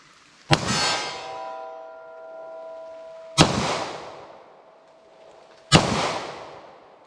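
Three sharp, loud .40 caliber pistol shots firing Federal HST rounds, spaced a few seconds apart, each with a metallic ring and a decaying echo outdoors.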